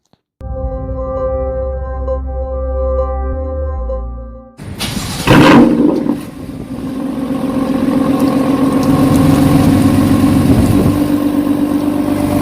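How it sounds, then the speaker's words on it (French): A BMW M4 F82 runs right after an oil change, first with a steady low idle, then a sharp rev burst around the middle before settling into a louder, even running hum that carries on to the end. "maintenant on va laisser chauffer la voiture comme ça à peu près 10-15 minutes"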